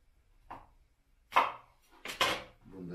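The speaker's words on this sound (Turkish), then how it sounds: "bir orta boy soğanı dörde bölüyorum" A few sharp knife chops on a cutting board as a medium onion is cut into quarters, spaced apart and fairly close, with quiet pauses between them.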